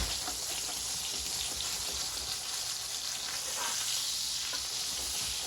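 German schnitzel fries in hot oil in a pan, giving a continuous, busy sizzle with fine crackles and pops that stay at a fairly soft level throughout, with no talking.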